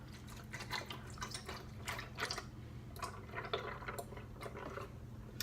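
Cashew milk pours steadily into a blender with soft splashing and dripping, close by, alongside faint clinks and handling noises; no talking.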